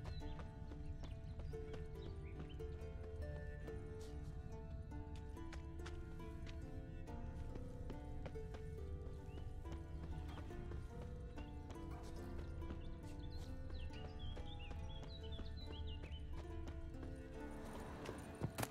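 Rhythmic clip-clop of horse hooves trotting steadily with a whinny, under a low musical background, in The Witcher 3: Wild Hunt.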